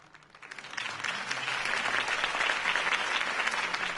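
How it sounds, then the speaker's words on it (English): A crowd breaks into applause that swells quickly and holds steady as dense, continuous clapping, fairly distant. "could have heard that applause"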